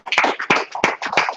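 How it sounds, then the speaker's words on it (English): A corporate financial company event audience applauds, a short, close burst of clapping with uneven, overlapping hand claps. "Give a round of applause."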